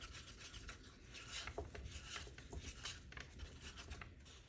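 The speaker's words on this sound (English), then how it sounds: "Just gonna give it another stir." White paint being stirred with a stick in a can, a steady close scraping and rubbing that swirls on without a break and has no voices over it.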